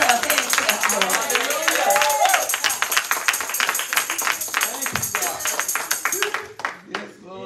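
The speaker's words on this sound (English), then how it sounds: "Let's give her a hand clap" A church congregation claps along during a Sunday praise service, a dense run of hand claps under continuous vocal singing and exclamations, fading toward the end.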